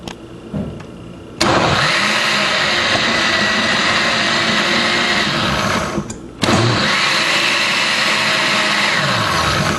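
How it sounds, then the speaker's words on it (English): A loud blender motor whirs steadily while blending beans and water, cuts out briefly, then starts up again and keeps running at a constant high pitch. "While you blend, if you see that it's still thickening, you add another cup of water"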